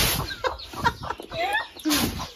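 Chickens, a hen with her small chicks, cluck and chirp in short irregular bursts at close range while being fed small rice grains.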